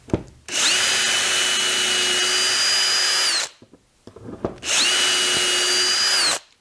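A power drill whines loudly in two sustained runs of about three and two seconds, with a short quiet gap between them, drilling a pilot hole while building a Wimshurst machine.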